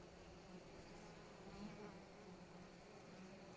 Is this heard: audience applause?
no